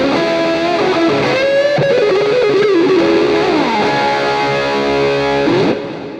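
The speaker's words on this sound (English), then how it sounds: "that's a nice amount of reverb, nice amount of delay" Distorted electric guitar lead run through an Axe-Fx II with reverb and delay, sustained notes gliding and bending over a wash of echoing tails, loud and close, ending as the trailing ambience fades out.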